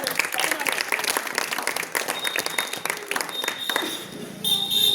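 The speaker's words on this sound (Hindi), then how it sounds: "एक बार जोरदार ताली।" Loud, dense applause from a crowd at a wrestling match, continuous clapping close and full, with a whistle-like tone and voices rising through it toward the end.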